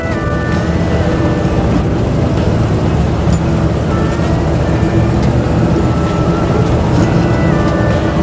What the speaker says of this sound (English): Not bad for a second gear start there.